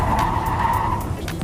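An early-1970s AMC Gremlin understeering on a race track gives a sustained, loud tire squeal, a steady skidding screech over engine rumble that fades slightly near the end.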